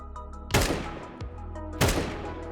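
Two sharp gunshots in Counter-Strike 2, fired at a button on the ceiling, each loud and close with a ringing decay, spaced over a second apart against a steady low hum.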